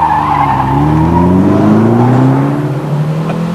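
A 2.0-litre four-cylinder turbocharged MG Montego pulls away hard with wheelspin, the engine note rising steadily as it accelerates, steady and close throughout with tyre squeal mixed in and no talking.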